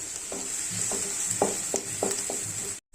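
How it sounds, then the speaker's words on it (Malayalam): Chopped medium-size onions sautéing in a pan, a steady sizzle broken by several scraping strokes of a spoon, close and fairly loud, ending abruptly. "ഇനി ഇത് നമുക്ക് നന്നായിട്ടൊന്ന് വഴറ്റിയെടുക്കാം."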